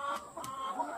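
Laying hens in a coop give short, close clucks in quick succession, a few soft bursts over about a second with no voices.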